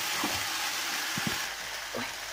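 Minced meat, about 300 grams, sizzles with onions in a frying pan, giving a steady close frying hiss with a few soft stirring scrapes and clinks, and no talking.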